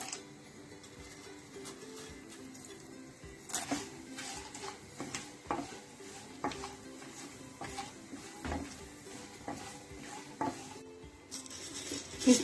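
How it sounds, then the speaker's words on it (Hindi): Edible gum (gond) frying in hot ghee in a kadhai: a steady low sizzle runs throughout, broken by repeated scraping and clinking as a utensil stirs against the pan. "जैसे ही घी गर्म हो जाए, इसमें गोंद को डालकर अच्छे से फ्राई कर लें।"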